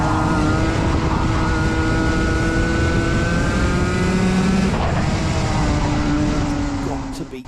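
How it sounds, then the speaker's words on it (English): A race car engine at Yas Marina circuit screams at sustained high revs, close and loud and nearly flat out, with a brief dip in pitch near the end before fading slightly. "Let's have a listen to Sam's engine revs."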